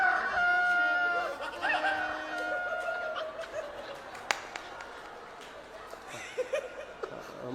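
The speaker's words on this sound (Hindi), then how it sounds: "मुर्गे ने बाग लगा दी।" Drawn-out rooster crows ring out at the start over crowd noise at a large outdoor Ram Katha gathering in a Gorakhpur park, then give way to laughter and murmuring from the audience.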